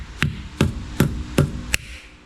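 Five sharp taps, evenly spaced about every 0.4 s, as a friction-fit lug nut cover is knocked onto a Tesla Model 3 wheel, each a close, hard knock with a brief ringing tail.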